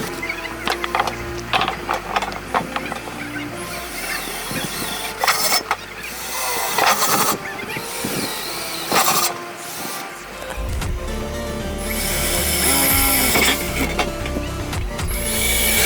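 A drill bores holes in an inverter casing in loud, continuous whirring and grinding bursts with brief pauses between holes, close and harsh.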